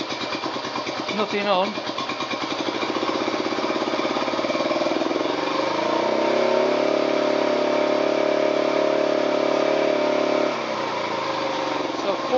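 A Honda SL 125 motorcycle with a 6-to-12-volt electrical conversion runs steadily at tick over. The engine rises into a sustained higher rev before settling back, heard close up while someone talks briefly over it.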